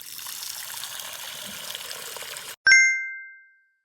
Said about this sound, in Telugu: ఫస్ట్ ఆఫ్ ఆల్ ఒక బౌల్ అయితే ఫుల్ గా వాటర్ తీసుకున్నా.